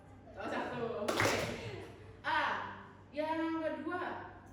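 A classroom of students in a Catholic religion lesson claps once together on the teacher's cue, a single sharp burst amid voices and light laughter, with speech continuing before and after.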